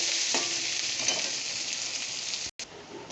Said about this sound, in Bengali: পেঁয়াজটা দিয়েও একটু ভেজে নেব।